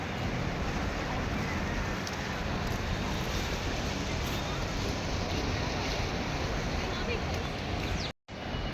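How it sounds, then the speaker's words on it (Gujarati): The Ganges flows steadily at Rishikesh, its water producing a loud, unbroken rush close by that fills the whole clip, with a brief dropout near the end. "આમ જુઓ અવિરત પ્રવાહ."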